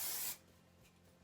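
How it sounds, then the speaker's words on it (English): A short, close burst of dry volumizing hairspray hisses for a moment, then cuts off into quiet room tone. "I go in with a dry volumizing hairspray"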